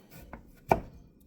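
A knife chops potatoes on a cutting board in two close strikes, a light tap and then a firmer thunk, with quiet between them.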